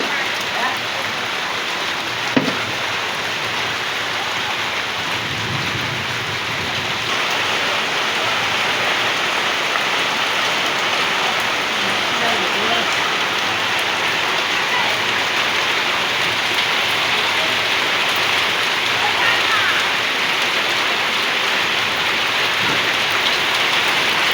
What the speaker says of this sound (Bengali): বলতে না বলতেই বৃষ্টি নেমে গেছে